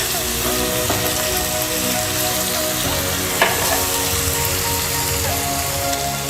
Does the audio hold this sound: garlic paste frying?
yes